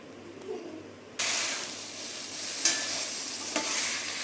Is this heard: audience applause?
no